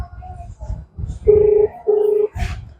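Phone line tones during a call placed to a chief medical officer: two steady sustained beeps, each about half a second, separated by a short gap, with indistinct voice fragments and background noise before them and after them.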